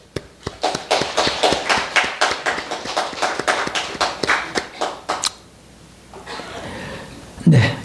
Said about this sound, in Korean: 축복하며 우리 박수하겠습니다.